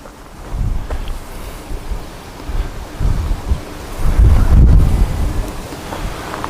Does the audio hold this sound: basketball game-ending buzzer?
no